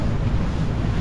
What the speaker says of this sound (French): Le vent est retombé à 16 nœuds.